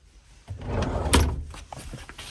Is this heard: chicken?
no